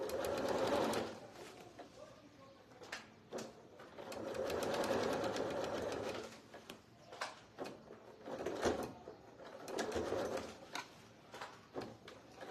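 Home sewing machine stitching decorative trim onto a fabric panettone basket, its motor running in bursts that slow and stop as it crosses seams, with short pauses and clicks between runs, close and moderately loud.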